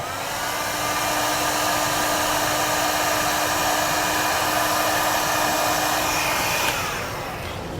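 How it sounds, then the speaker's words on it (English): A heat gun blows hot air to shrink-seal the ends of trailer wiring connectors, a loud, steady whooshing fan roar that runs continuously and fades slightly near the end. "I'll grab my heat source and get them sealed up."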